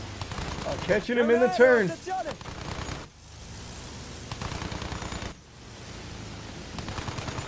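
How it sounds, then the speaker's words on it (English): Rapid bursts of aircraft machine-gun fire from a 2v2 dogfight video game, harsh noisy rattles that come and go over several seconds, with an excited commentator talking over the first part. "just putting some shots in on him from distance"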